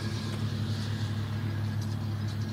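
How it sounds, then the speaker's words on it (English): Steady road traffic rolls past near a rural horse field on a calm, windless day, a continuous low hum of car engines and tyres with no voices. "traffic passing by."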